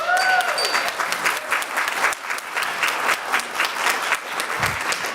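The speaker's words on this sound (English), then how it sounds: "Let's give a round of applause." A school assembly audience claps for graduating students in a dense, steady round of applause that fills the whole stretch at close range, with a brief dip partway through.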